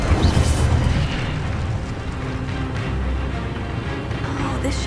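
Incendio fire spell blasts from the video game Hogwarts Legacy, a loud rumbling whoosh and boom that swells at the start and roars on steadily throughout.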